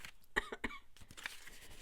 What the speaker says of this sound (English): And I just have my lovely cough.